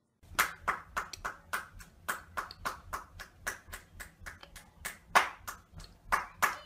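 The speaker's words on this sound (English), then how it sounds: "I think that deserves another round of applause." Sharp, distinct hand claps ring out in a steady rhythm on a talk show, about twenty separate claps from one or a few people rather than a crowd. They continue for several seconds with no talking.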